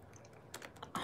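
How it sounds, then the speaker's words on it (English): Clicky keystrokes on a computer keyboard, several quick taps in a short burst ending with a louder cluster, close up with no voices. "I'll just be clicky-clacky typing over here."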